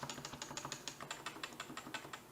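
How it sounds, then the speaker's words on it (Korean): Quick, even taps of a computer keyboard's arrow keys, around twenty light clicks in steady succession, faint and close in a quiet room with no talking. "위쪽 화살표를 치면 위로 올라가고 아래쪽 화살표를 치면 아래로 내려갑니다"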